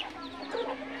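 A labuyo, a wild junglefowl, gives a short soft cluck or two, close but faint, with no one speaking.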